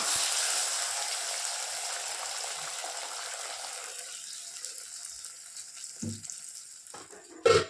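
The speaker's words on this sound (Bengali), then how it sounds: "রান্না করবো হচ্ছে যে ডিমগুলো ভেজে নিই" Eggs fry in a pan with a broad hiss that slowly fades, followed near the end by a couple of soft clunks.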